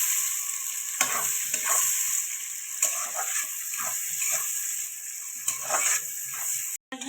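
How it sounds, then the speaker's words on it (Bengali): Onions fry in a pan with a soft continuous sizzle, and a spoon stirs them in repeated scraping strokes, heard close with no talk. "পেঁয়াজটাকে লাল লাল করে ভেজে নেব।"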